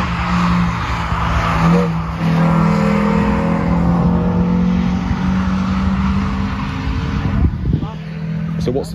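A race car on a track day at the Castle Combe circuit revs hard through its gears, loud and close, the engine note climbing and dropping with each shift, with brief tyre noise near the end.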